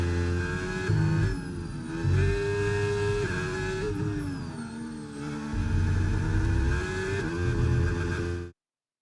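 A Ferrari race car in a racing game, its engine note rising and falling through gear changes as it revs hard, a loud steady roar that cuts off abruptly at the end.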